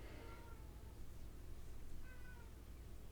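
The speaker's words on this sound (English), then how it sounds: "That's my cat meowing." A pet cat meows indoors, two short drawn-out calls, one near the start and another about two seconds later, faint over a low room hum with no speech.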